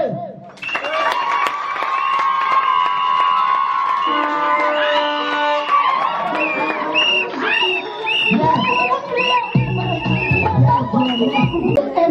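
Wedding guests at a civil wedding in Yaoundé clap and cheer. A loud, sustained wash of applause carries whoops and high shouting voices on top and keeps going without a break for about twelve seconds.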